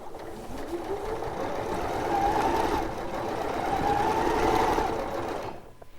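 A domestic sewing machine stitching a straight line down a quilt row, a steady whirring hum that rises and falls in speed for several seconds, then stops.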